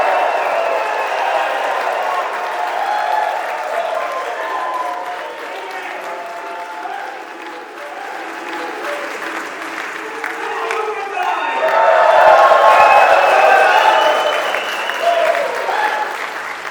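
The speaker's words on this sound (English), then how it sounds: "When's the last time that you've received a round of applause like that, Patrick?" Sustained audience applause at a live podcast taping in Miami, a dense steady wash of clapping that swells louder toward the end, with some voices and cheering mixed in.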